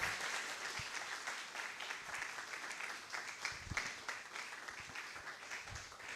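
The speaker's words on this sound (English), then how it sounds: "Let's continue to clap as he mounts the podium." Audience applause welcoming a professor to the podium at a university registrar's office presentation, steady dense clapping sustained throughout with a few louder individual claps standing out.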